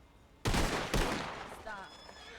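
Two loud, sharp gunshot volleys about half a second apart from a firing squad in the Western video game Red Dead (WildRP), each blast followed by a decaying echo and a brief trailing voice.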